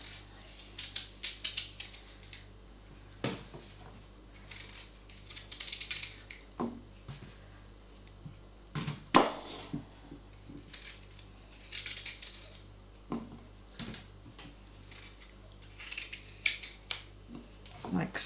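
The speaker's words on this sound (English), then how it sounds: "So take your apple, cut it in half, cut the core out." A knife halving an apple and cutting out its core on a board for pork, apple and cheese pasties, heard as scattered close clicks and taps of the blade with quiet kitchen sounds between.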